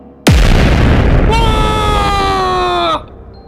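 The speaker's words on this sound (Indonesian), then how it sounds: "Ledakan menghancurkan barisan belakang." A sudden loud boom bursts in, then a rumbling blast with a ringing, metallic tone lingers for about two seconds before cutting off.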